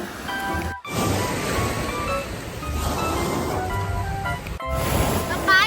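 Sea waves and surf wash steadily at Jomtien Beach in Pattaya, a continuous broadband roar with wind on the microphone, while people talk over it throughout.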